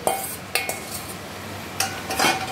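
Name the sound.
stirring fried potato and prawns in a kadai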